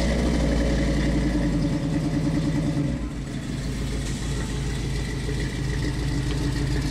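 A 1970 Ford Bronco engine running close by with a steady, throbbing rumble and rattle. The tone shifts partway through as the revs change. No voices.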